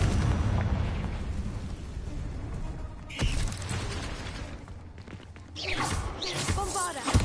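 Confringo spell explosions in Hogwarts Legacy, a dense rumbling blast with a sharp crack about midway and another burst near the end, with a voice calling out between the impacts.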